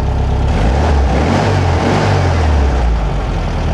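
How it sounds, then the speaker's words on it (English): Air-cooled VW Beetle engine revved during carburetor tuning, close and loud, the pitch climbing and then falling back toward idle. "You rev it up a little bit like that, get the mixture going"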